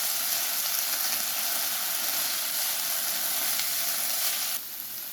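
Vegetables stirred with schezwan sauce in a frying pan for hakka noodles, a steady loud sizzle with scraping stirs running throughout and dipping slightly near the end.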